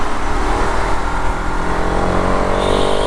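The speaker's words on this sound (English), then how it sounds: "such a beautiful revving machine." An RS 200 motorcycle engine with fuel injection revs up close and loud, a dense steady buzzing roar holding at high pitch throughout with no pauses.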